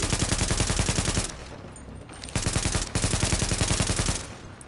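Rapid automatic gunfire crackles in dense bursts in a PS4 shooter game, with a short pause and a single shot before the sustained firing resumes, loud and close.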